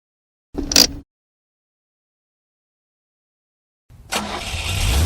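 A car engine starts and runs as the vehicle is put into reverse, a rising rumble kicking in after a short thump and a few seconds of silence, close and steady to the end.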